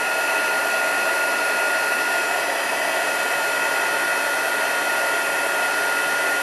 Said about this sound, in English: So I'm going to heat up my heat gun under the desk so it's not so noisy.